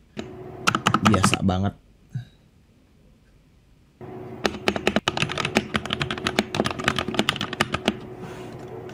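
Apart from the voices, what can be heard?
typing on a modded mechanical keyboard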